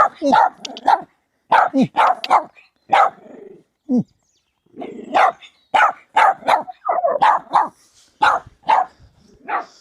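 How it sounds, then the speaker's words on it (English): Outdoors beside an empty reservoir, a dog barks loudly and repeatedly in quick, irregular bursts, close by, with short gaps between volleys and no one talking over it. "Mad dog."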